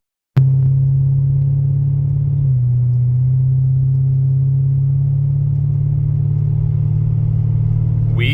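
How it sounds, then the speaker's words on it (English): A Toyota LS400 with a freshly installed transmission shift kit drives along, its engine giving a steady, loud low rumble that holds constant throughout, with a slight shift in pitch partway through and no talk. "The car is driving again."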